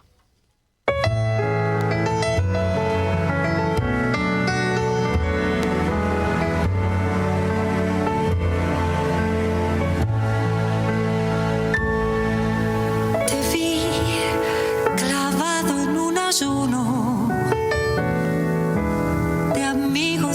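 The song, a piece about Buenos Aires, plays loud and full with dense instrumentation after a brief silent start, running continuously to the end.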